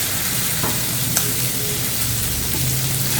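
Fried spices and half a spoon of garam masala being mixed in a pan for a shahi ring samosa filling, heard as a steady close sizzle with faint scraping strokes and a small clink, constant and fairly loud, no voices.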